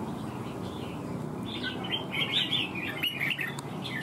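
Red-whiskered bulbul chirping at close range, a run of bright, quick tweets over a steady low background hum, growing busier in the second half.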